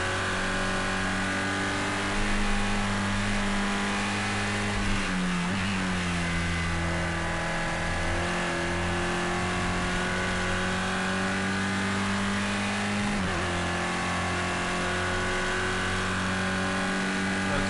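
A race car engine in Project Cars 2 holds a steady, loud mid-pitched drone through the whole stretch, dipping briefly as it shifts and then climbing again under load, with no talk over it.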